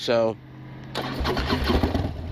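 Motorcycle engine cranking and catching, a brief starter whine then a loud, close rumble settling into a rough idle, with someone speaking briefly over it.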